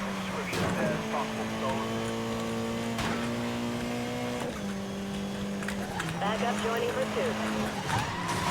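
A McLaren MP4-12C in the Need for Speed: Most Wanted (2012) video game accelerates, its engine a sustained loud whine climbing in pitch through gear shifts, with a voice talking over it.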